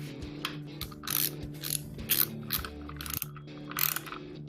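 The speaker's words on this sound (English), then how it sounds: "We want this torque wrench, we want the torque to be basically even." A torque wrench ratchets steadily while tightening bolts on an Opel CIH short block engine, close and mechanical, with rhythmic clicking strokes and brief pauses between pulls.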